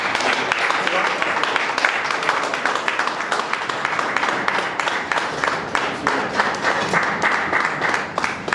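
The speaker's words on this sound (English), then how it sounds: "Keep clapping, keep clapping." Audience clapping at a Nigerian media association event as the president is brought to the podium: loud, sustained applause from a crowd, dense and continuous throughout with sharp individual claps standing out.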